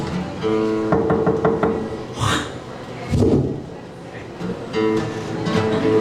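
Several quick knuckle raps on a wooden door at the rear of a building sound close and crisp, followed by a few more scattered knocks, set against a steady musical background.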